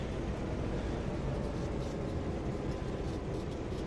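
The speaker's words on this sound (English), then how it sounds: "Open up the window so we can hear the train a little better" Train running in the Train Sim 2020 game, heard with the cab window open: a continuous, steady broadband rumble and rolling roar with no breaks, moderately loud and alone.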